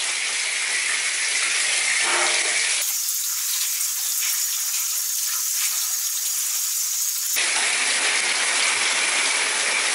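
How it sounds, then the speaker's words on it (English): Shower spray running in a bathroom, a steady loud hiss of water throughout with a sharp shift in tone partway through as the flow switches to cold, then switches back near the end. "Cold shower on."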